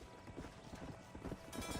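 Steady clip-clop of horse hooves trotting at a moderate pace in the video game Red Dead Redemption, close and fairly loud, with a faint background hum and no talking.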